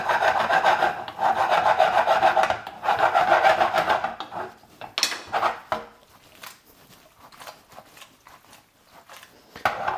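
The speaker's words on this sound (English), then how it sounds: "And then you want to mix this pasta through the sauce." A utensil scrapes and stirs cherry tomato pasta through sauce in a pan, with steady rubbing and scraping up close, then lighter clinks and taps as the mixing slows.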